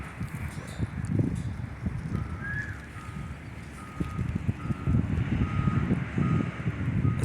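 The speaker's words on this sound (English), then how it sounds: "the machine is already putting dirt on the truck." At a high school stadium construction site, a machine loads dirt onto a truck. A repeated reversing beep sounds over rumbling engine noise and scraping, crunching dirt, with no speech.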